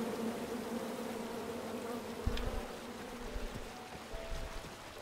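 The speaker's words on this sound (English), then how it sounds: "Come at me, bees!" A steady, low buzzing of bees in the video game King's Quest: Chapter 1 hums throughout, faint and continuous, with a few soft thumps and rustles beneath it.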